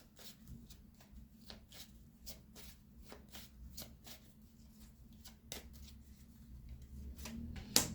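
Tarot cards being shuffled by hand, soft repeated riffling and slapping taps in an uneven rhythm, quiet and close with no talk over it.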